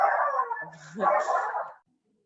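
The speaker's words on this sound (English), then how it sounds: "Excuse me, my dog." A pet dog gives a few close, loud barks and whimpering yips indoors, the sound breaking off into silence near the end.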